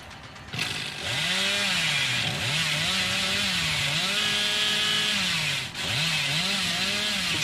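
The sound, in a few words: chainsaw in video game Dead by Daylight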